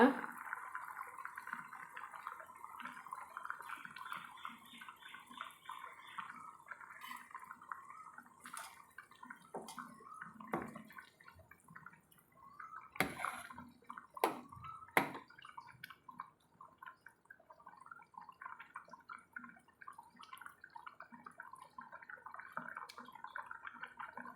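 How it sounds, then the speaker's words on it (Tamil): Egg curry (kuzhambu) made with country-chicken eggs bubbles in a pot, giving soft, quiet gurgling and dripping liquid sounds with a few louder splashes partway through, continuing steadily at a low level. "குழம்பு கொதிச்சு வந்துருச்சுங்க"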